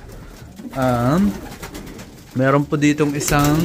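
Pigeons coo in short harmonic phrases, one early call and several later bursts, close and fairly loud, with someone speaking Tagalog over parts of it.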